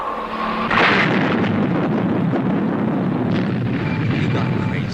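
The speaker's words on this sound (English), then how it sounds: "Explode the missiles by remote control." Missiles detonated by remote control in an old Saturday-morning cartoon, a loud booming explosion followed by a sustained rumbling roar, with voices over it.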